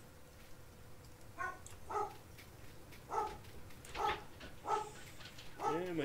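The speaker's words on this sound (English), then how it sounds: "my dogs are going nuts" Several dogs barking in short bursts spread over a few seconds, fairly distant and moderately loud, with a faint steady background hum and no clear talk.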